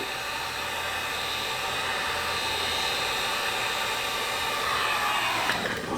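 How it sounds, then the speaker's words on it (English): A heat gun on a very low setting warming a Tacoma tailgate letter decal; a steady, close whooshing blow of hot air that holds level and unbroken for the whole stretch, with no talking. "we'll heat it real quick with the heat gun."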